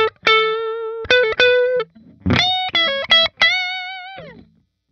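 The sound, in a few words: electric guitar played on neck pickup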